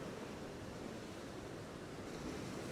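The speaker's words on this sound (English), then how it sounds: "Whitewater's going back and forth." Sea whitewater washing back and forth over rocks in rough conditions while fishing: a steady, dense roar of surf and spray with no talking.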